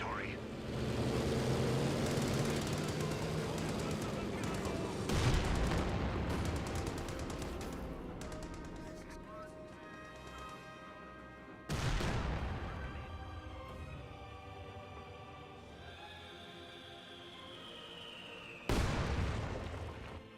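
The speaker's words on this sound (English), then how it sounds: "Rifle grenade fired." A rifle grenade fires in Company of Heroes 2 amid a battle of gunfire and explosions, with sharp loud blasts at intervals over constant rumbling combat noise.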